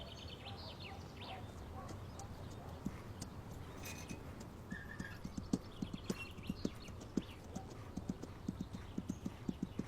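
A horse's hooves clip-clop in a steady, fairly quiet rhythm outdoors, with faint birdsong in the background.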